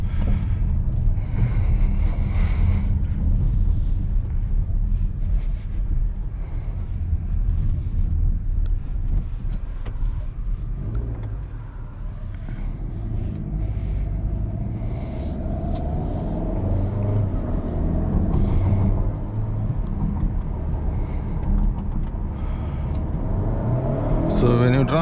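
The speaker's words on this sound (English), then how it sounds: "So let's drive the Tiguan." A Volkswagen Tiguan R-Line SUV with a 2-liter engine and 4Motion all-wheel drive is heard from inside as it drives. Steady engine and road rumble runs throughout, with someone talking over it.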